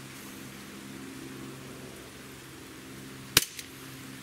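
A single sharp shot from a Barra 1911 CO2 blowback pistol, a brief crack with a quick mechanical echo of the slide, after a quiet background hum.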